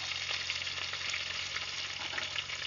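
Mustard seeds, curry leaves, mint and coriander crackle and fry steadily in a pan, a close, dense sizzle with scattered sharp pops that runs without a break through the whole stretch, no voices over it.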